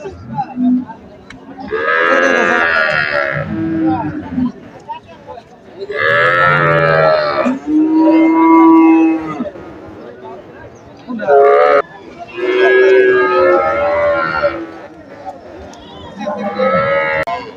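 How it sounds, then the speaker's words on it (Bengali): Cross-breed calves at a cattle market before Eid al-Adha, loud close moos repeating in several long calls separated by short pauses, with some talk in between. "দেখতে পাচ্ছেন এখানে বাছুর"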